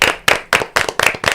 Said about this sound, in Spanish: recibimos con un fuerte aplauso